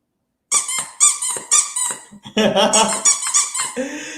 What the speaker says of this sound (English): the toy must be squeaked